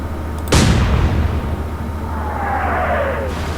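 A naval gun salvo fires in the Atlantic Fleet warship game: one sharp, loud boom that rolls off into a long rumbling decay, with a falling whistle-like tone near the end.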